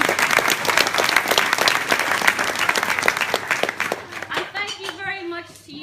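Dense, loud clapping from a school assembly audience of parents and Year 3 children fills the room steadily, then thins out as a voice begins speaking near the end.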